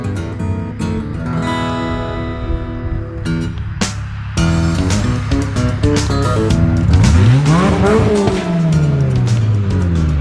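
Cars hot riding on an Orlando road in the evening, engines revving hard with rising and falling pitch sweeps and a loud pass-by near the end, over steady road rumble.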